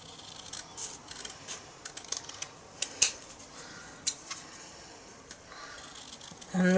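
Scissors snip through cardstock while trimming a stamped card by hand, a string of short, crisp cuts with brief pauses between them, close and fairly quiet, ending on a louder rustle.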